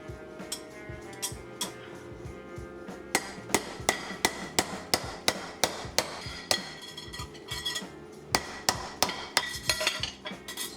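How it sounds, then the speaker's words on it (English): Sharp metallic ball peen hammer blows ring out on a copper bracelet, a steady rhythm of strikes with a pause early on, then a brisk run of regular, close, loud hits. "I think we're going to bring out the big ball peen for it."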